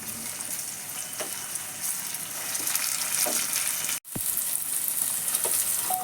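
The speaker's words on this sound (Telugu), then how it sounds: "ఇందులో టమాటా వేసి ఫ్రై చేస్తూ ఉండాలి." Tomatoes frying in hot oil for a chicken curry give a continuous bright sizzle with occasional soft stirring taps, one short break near the middle, then the sizzling carries on steadily.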